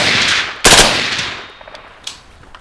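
A suppressed Grand Power M4M piston rifle fires one loud, close, rapid burst, followed by a fading echo and a few faint clinks.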